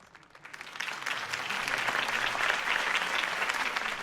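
A city crowd applauds at a political campaign rally in a Batman Telltale game, dense clapping rising from faint to a steady, full roar that holds throughout without any talk over it.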